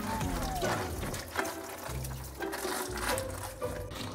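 Tap water runs steadily into a sink while vegetables such as carrots are scrubbed and peeled with textured peeler gloves, a continuous splashing hiss with small rubbing sounds on top.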